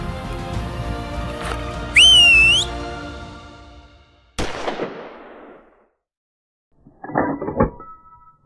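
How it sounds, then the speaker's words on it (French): During a European mouflon hunt in France, a hunter gives one sharp, rising-and-falling whistle to the animal, loud and close. Other abrupt sounds follow, with silence between them. "dès qu'il arrive dans la barre, je le siffle un coup"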